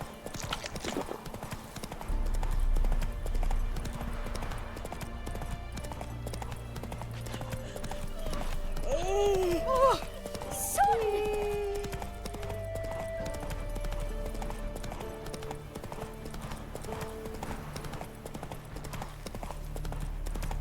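Horse hooves pound in a steady rapid rhythm in The Witcher 3 as the horse Roach runs along a sandy stretch, with a brief whinny partway through over continuous game ambience.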